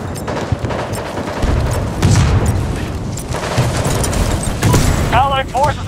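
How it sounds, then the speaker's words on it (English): Battlefield 2042 combat erupts with booming blasts and bursts of gunfire from a thrown grenade, loud and dense, while a voice shouts over the noise and a brief beeping cue sounds near the end. "Grenade out!"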